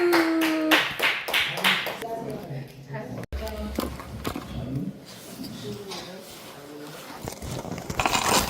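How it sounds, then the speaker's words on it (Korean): A church word festival gathering breaks into brief bursts of clapping near the start, followed by quieter taps and murmuring voices; the clapping returns faintly toward the end. "박수."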